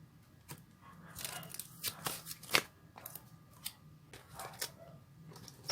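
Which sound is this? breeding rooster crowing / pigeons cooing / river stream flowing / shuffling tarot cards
shuffling tarot cards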